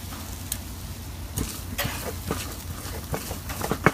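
White onion, jalapeno and cumin sizzling on a breakfast, lunch and dinner grill, a steady soft fry crackle with occasional sharper pops and scrapes of stirring, fairly quiet and close.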